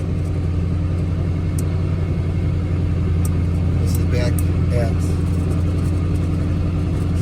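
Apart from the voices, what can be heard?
1985 Jeep CJ7 engine climbing a hill grade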